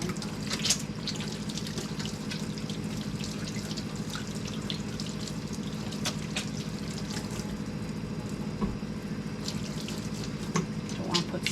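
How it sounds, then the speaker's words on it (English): Hands are scrubbed under a running kitchen tap to wash off flour while cooking garlic chicken. The water runs steadily with faint splashes and a few small clinks, and there are no voices. "Just gotta scrub the hands."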